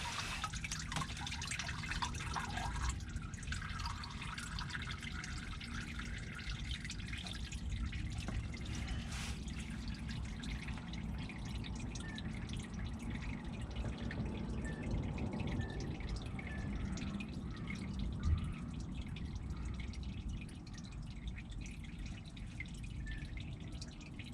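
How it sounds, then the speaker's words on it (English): Used motor oil draining from a car after the oil filter is loosened during an at-home oil change, a steady continuous dribble and trickle with small drips throughout, no talking. "Go ahead and loosen up your filter. Let it start draining."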